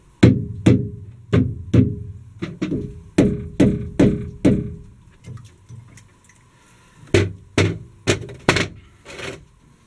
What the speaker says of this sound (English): I'm going to tap this with my rubber mallet to free it up